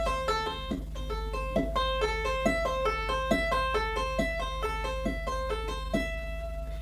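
Lead electric guitar plays a classic tapping riff: fast, even repeating tapped and pulled-off notes over a steady low hum, close and clear with no talking.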